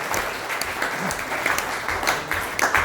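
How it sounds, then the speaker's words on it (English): Applause from the audience at a cycling club presentation night, a steady wash of clapping with some louder individual claps standing out, fairly close and continuous. "Round of applause."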